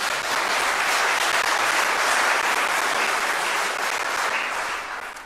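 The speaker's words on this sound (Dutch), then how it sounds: "Dus allereerst wil ik daar eigenlijk even een applaus voor vragen." Sustained audience applause at a teach-in debate on basic income, welcoming a professor; many hands clap in a thick, even wash, loud and close, easing off near the end.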